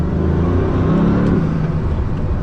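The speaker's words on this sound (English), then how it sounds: "The noises you get into the cabin from that engine and those turbos" Bugatti Veyron engine and turbos heard from inside the cabin: a loud, steady low drone with a rising turbo whir and swelling rumble under acceleration, no talking.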